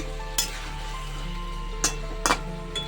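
Chicken being stir-fried in spices for gondhoraj chicken crackles in a pan with a steady sizzle, broken by several sharp spatula scrapes and clanks against the metal.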